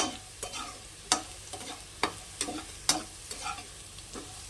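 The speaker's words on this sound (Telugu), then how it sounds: "ముక్కలు కూడా కొంచెం గోల్డ్ కలర్ వచ్చేంత వరకు ఫ్రై చేసుకోవాలండి." Okra pieces fry in a pan with a steady, soft sizzle, broken by sharp scrapes and clacks each time the spatula stirs them, roughly once a second, close and alone without talk.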